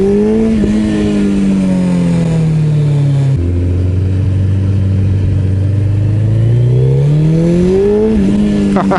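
A high-revving Suzuki Hayabusa engine screams close by on a track, dropping in pitch on downshifts and climbing again as the throttle opens.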